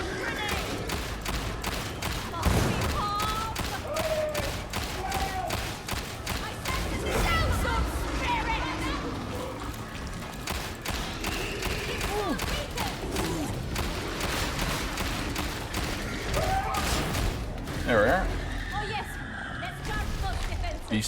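Sustained bursts of gunfire from a Veteran in Darktide, fired at a Demon Host, crackling throughout under loud game noise and a talking voice.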